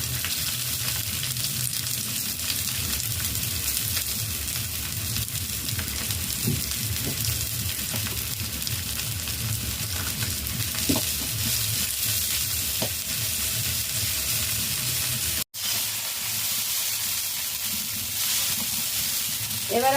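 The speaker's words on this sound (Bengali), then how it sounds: "পেঁয়াজ কুচি ভেজে নিব।" Chopped onions fry in a hot pan for an egg chowmein, a loud steady sizzle close up with occasional stirring and scraping, continuing throughout.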